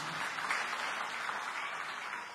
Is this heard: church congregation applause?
yes